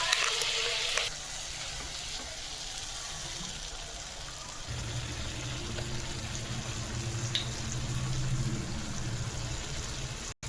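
Spice paste of curry leaves, turmeric, coriander and cumin hits sautéed masala in a pan for potato korma, setting off a loud hiss that settles into a steady sizzle with stirring.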